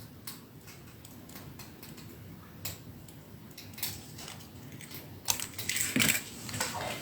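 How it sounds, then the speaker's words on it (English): Scissors fussy cut paper card stock for a card-making craft, a run of light, close ticking snips that grow louder and denser toward the end, with soft rustling between cuts. "when you're fussy cutting, you're holding the scissors still and turning the paper, not the scissors."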